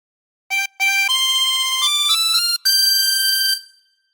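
A chromatic harmonica plays a phrase of the Star Spangled Banner: a string of clear, sustained notes stepping upward with brief breaks, ending on a long held tone, loud and close with no voices.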